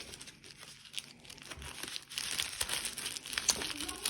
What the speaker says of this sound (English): They are then going to go in this plastic bag, okay?